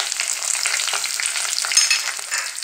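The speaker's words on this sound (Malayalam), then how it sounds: "ചുവന്നുള്ളിയും പച്ചമുളകും കറിവേപ്പിലയും കൂടെ ഇതിലേക്ക് ഇട്ട് കൊടുക്കുവാണ്" Shallots, green chilies and curry leaves hit hot oil for a Kottayam-style fish curry, making a loud, dense, crackling sizzle that holds steady throughout.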